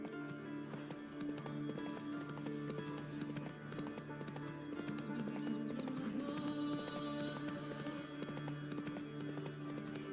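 Horse hooves clip-clop at a steady trot in The Witcher 3, a continuous rhythmic beat under a bed of game music and ambience, with a brief rider's voice.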